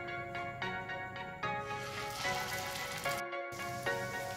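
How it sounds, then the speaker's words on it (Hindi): Galauti kebabs shallow frying in hot ghee in a pan over a medium flame, a close, steady crackling sizzle with small popping spatters throughout, no voices. "पैन में हमने कबाब डाल दिया है, हम इसे मीडियम फ्लेम पे फ्राई करेंगे।"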